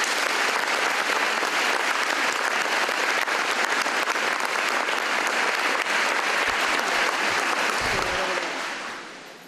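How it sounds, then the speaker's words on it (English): Sustained applause from a school convocation audience, a dense, even wash of many hands clapping that carries on for several seconds before tapering off at the end, a faint voice surfacing as it fades. "let's give her one more round of applause."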